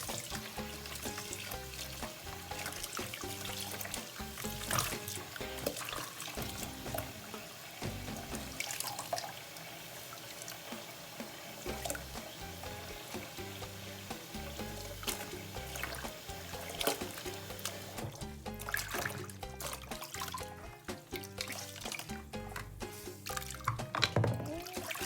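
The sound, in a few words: hand-washing a washable fabric face mask in water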